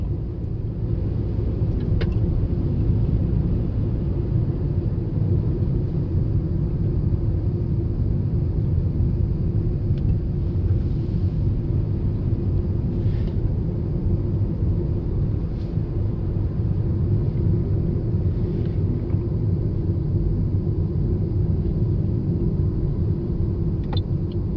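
A 2016 Toyota Yaris Hybrid engine idling after a cold start, a steady low rumbling drone that holds even and unbroken throughout with no talk.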